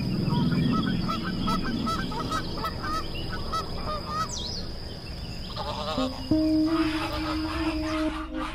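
Geese honking in the Norwegian wild: a flock's repeated nasal calls run in quick bursts over a steady outdoor wash, thinning after the midpoint as other higher tones and a steady note take over.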